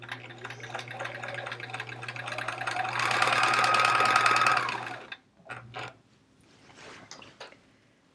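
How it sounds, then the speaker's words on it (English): A sewing machine stitches a quilt strip for a chevron quilt, a fast steady whir building for about five seconds before stopping, followed by quiet handling and a brief restart. "let's sew this first strip"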